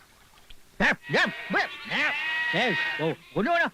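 Goat bleating up close in a rapid string of wavering, nasal cries, about seven calls in under four seconds, with one long drawn-out bleat in the middle.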